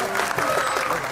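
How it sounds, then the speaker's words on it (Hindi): A crowd at a film trailer launch breaks into applause, many hands clapping in a continuous, moderately loud wash with a faint murmur of the gathering beneath. "इनके लिए तालियां बजाइए।"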